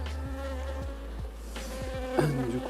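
Bees at a hive during a springtime beekeeping inspection, buzzing close around a microphone they are drawn to, a steady insect drone with wing tones rising and falling as individuals pass near.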